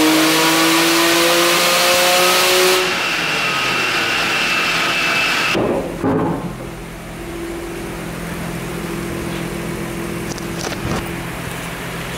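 A stock Nissan GT-R engine running on E85 with a Haltech engine management system revs hard, its loud, rising drone cut off by a sharp drop after a few seconds, then settling into a steady idle.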